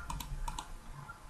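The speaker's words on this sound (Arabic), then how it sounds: "ثم ندوس على زر الانتر من لوحة المفاتيح" Several sharp key presses on a computer keyboard, among them the Enter key, giving quiet, close clicks in a short uneven burst with no talk.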